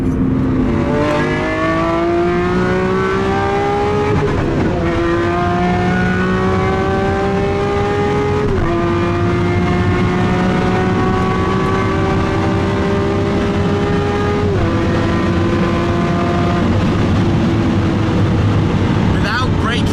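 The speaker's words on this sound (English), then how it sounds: "the noise of this thing. That was pretty crazy." A powerful supercar engine revs hard on a motorway and climbs through several gear changes, each shift dropping the pitch before it rises again, loud and close throughout.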